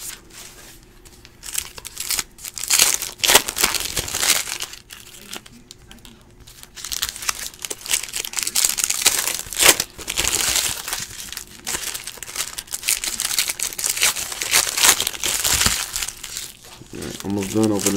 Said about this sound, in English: Almost done opening these packs